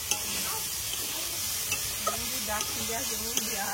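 Chicken pieces sizzle and are stirred in a hot pan while being fried for chicken chow mein, a steady close hiss with irregular scraping stir strokes and faint voices in the background.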